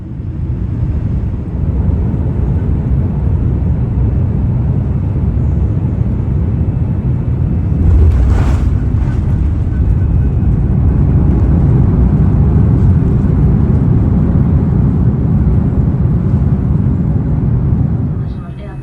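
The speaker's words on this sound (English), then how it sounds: "Now enjoy the approach and landing into Suvarnabhumi." Kenya Airways airliner on approach and landing into Bangkok Suvarnabhumi, heard from the business class cabin as a steady, loud low engine and air rumble throughout, with a brief brighter swell partway through.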